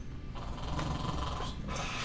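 A person at a tabletop roleplaying game imitates snoring with rough, raspy breaths that rise and fall twice, close and moderately loud, with no other voices over it.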